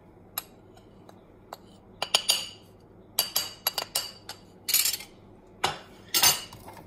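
A spoon clinks against a glass while a dessert is mixed, giving sharp, bright taps in irregular clusters, some quick and close together, near and clear with no talk.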